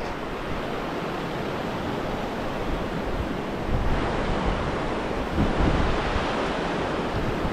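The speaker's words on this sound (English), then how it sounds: "I want you guys to prep to go through these rapids" Rushing river rapids in the Grand Canyon: a continuous, loud roar of churning water with broadband hiss and wind buffeting the microphone, swelling slightly partway through, with no voices.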